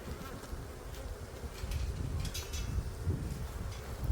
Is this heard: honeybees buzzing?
yes